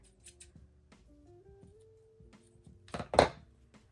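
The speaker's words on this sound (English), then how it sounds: "I'm using my regular scissors," A few soft snips of scissors trimming a fabric clothing label, with a louder crisp cut near the end, close by against a quiet background.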